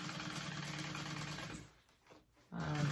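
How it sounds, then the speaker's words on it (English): A sewing machine runs in a fast, steady whirring stitch along the corner of a tote bag, pauses briefly with a few soft clicks, then resumes stitching at the same brisk pace. "you could do another row of stitching just to help with the stress put on this corner"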